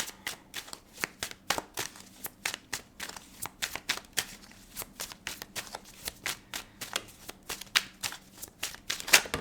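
Tarot cards being shuffled by hand, a rapid run of crisp riffling bursts and soft slaps repeating steadily close up, with a faint low hum underneath and no talking.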